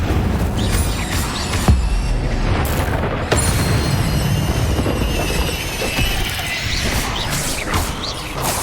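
Incendio fire spell cast in the video game Hogwarts Legacy, loud dense bursts of booming fiery noise with sharp impacts near 1.7 and 3.3 seconds over a steady roaring bed, no voices.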